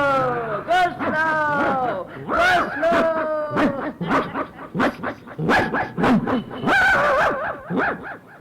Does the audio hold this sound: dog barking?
yes